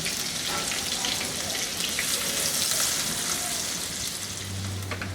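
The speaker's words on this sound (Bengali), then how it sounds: "এখন এর মধ্যে আমি 2টা বড় সাইজের পেঁয়াজ ফালি করা এগুলা দিয়ে একটু ভেজে নিব।" Two large sliced onions frying in a pan, a steady close sizzle and crackle with no pauses, moderately quiet, and a low hum entering near the end.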